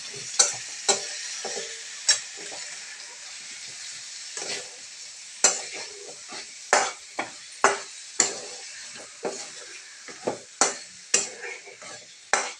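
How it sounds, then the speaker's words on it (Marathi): Masala being stirred into potatoes in a pan for a dhaba-style potato curry: a spatula scrapes and knocks against the pan in irregular strokes over a soft sizzle, each stroke a sharp close clack, with no talking. "हा मसाला पूर्ण त्या बटाट्यांना लागेल असं आपण मिक्स करून घेऊया"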